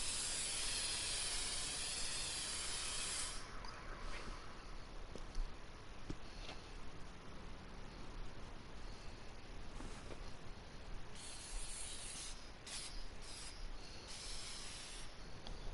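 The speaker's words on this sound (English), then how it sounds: "A man, a plan, and an aerosol can." An aerosol spray paint can in the video game Infamous Second Son gives a long, steady hiss that runs for about fifteen seconds with small shifts in texture, at a constant level with no talking.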